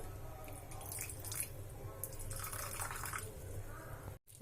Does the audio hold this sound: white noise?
no